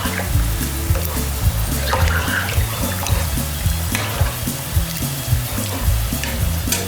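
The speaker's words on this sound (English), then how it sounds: "Then you give that a good mix." Cajun rice and gravy, seasoned with onion powder and garlic powder, is stirred in a pot. A steady close sizzle runs under repeated scraping and stirring strokes, with no talking.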